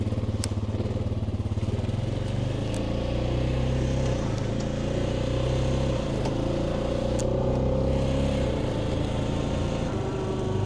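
An ATV engine running steadily while riding, a loud, continuous close drone with slight shifts in pitch and no talk over it.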